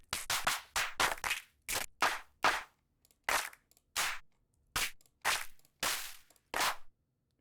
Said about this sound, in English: I don't even know if he made these claps